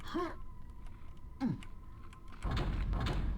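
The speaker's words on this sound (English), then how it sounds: "every time I fail this, the door opens behind me" A door in the game Electric Sheep opens with a creaky rising groan, followed by a second shorter creak and then a louder rumbling thud, close and heard alone.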